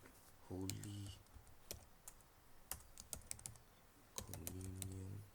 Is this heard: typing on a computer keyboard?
yes